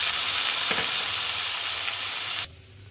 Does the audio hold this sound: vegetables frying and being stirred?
yes